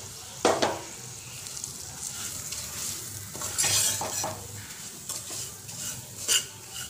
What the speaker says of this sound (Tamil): நல்லா நெய்யில் நெய் வாசனை வர வரைக்கும் நல்லா ரவையை வறுத்துக்கோங்க